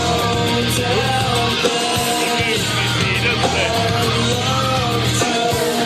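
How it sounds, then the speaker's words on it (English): A crowd at an amateur wrestling event shouts at a wrestler, a loud, dense, continuous roar of overlapping yells and voices filling the hall. "He's being shouted at again."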